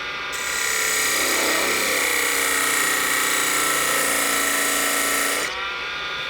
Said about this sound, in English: I'm going to take the parting tool.